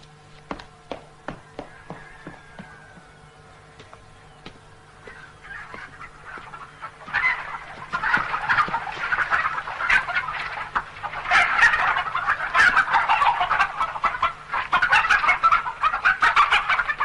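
Chickens cluck and call at a rural home, sparse sharp clicks at first giving way to a busy, continuous chorus of clucking that grows louder and fills the rest of the stretch.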